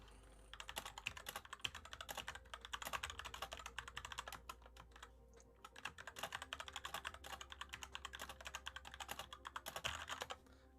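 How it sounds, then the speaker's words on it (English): Rapid, continuous typing on a computer keyboard during an online game tournament, with dense close-up key clicks and a brief pause midway. "We're typing to the teams right now."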